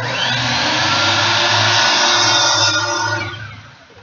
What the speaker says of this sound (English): So I'm going to go ahead and I'm going to make that same cut again.